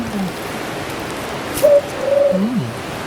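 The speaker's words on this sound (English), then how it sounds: "So it's called ring-necked doves." Ring-necked doves call outdoors in Christchurch, New Zealand, giving a few soft, low coos in a short sequence, moderately near, over quiet background ambience with no talking.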